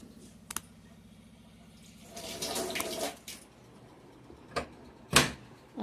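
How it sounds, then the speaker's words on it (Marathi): Filtered water poured into a clay water pot, a brief rushing splash lasting about a second amid quiet household background, followed by a few sharp clicks and knocks. "माठसुद्धा फिल्टरच्या पाण्यानं भरून ठेवते"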